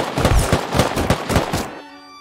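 Automated turret in the survival video game Rust firing a rapid burst of about eight or nine loud, evenly spaced shots, then stopping abruptly with a faint ringing tail.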